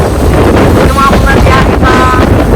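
Strong typhoon wind buffets the microphone in a loud, constant roar, with brief whistling tones rising above the rumble.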